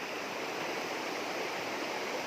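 Clear water of a mountain stream flows in a steady, broadband rushing hiss, close and continuous, with no voices or other sounds over it.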